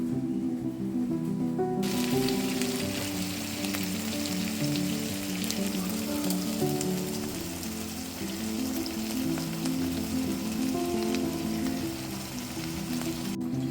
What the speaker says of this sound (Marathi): मी बाजूने थोडंसं तेल सोडून घेतलं, जेणेकरून कबाब आपले छान परतून झाले पाहिजे